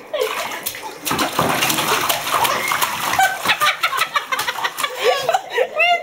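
Water splashing and sloshing in a tub with bursts of droplets, mixed with laughter and excited voices close by.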